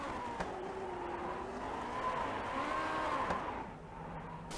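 A Grand Prix Legends race car in an iRacing replay on the Chicago Street Circuit, its engine note dropping and blipping through a downshift with a possible rev mismatch, a continuous loud whine shifting pitch throughout.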